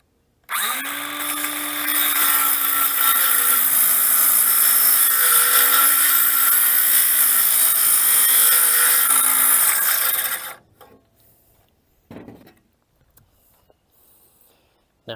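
A power saw cuts straight through a wooden door that a dog tore up, a loud, steady whining roar lasting about ten seconds before it stops abruptly, leaving a few faint clunks and handling noises.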